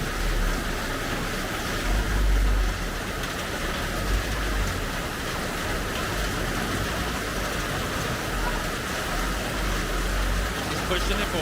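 Cars and bikes push through deep flood water on a Metro Manila street, a continuous wash of splashing and low engine rumble under steady outdoor noise, with people talking nearby.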